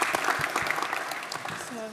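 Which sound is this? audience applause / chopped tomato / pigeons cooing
audience applause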